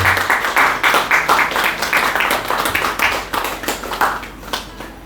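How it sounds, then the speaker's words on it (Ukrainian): Applause from an audience welcoming newly admitted third-degree Knights of Columbus at a Ukrainian Greek Catholic parish ceremony in Kamianske, steady clapping of many hands throughout, fairly close and lively, with no talk over it. "Прошу оплесками привітати наших новоприйнятих лицарів Колумба третього ступеня"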